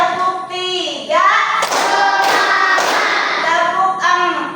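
Rhythmic hand clapping from a teacher-led tepuk fokus clap game in a classroom coaching session, a few sharp bursts of claps interleaved with a woman's sing-song counting voice, moderately loud and close.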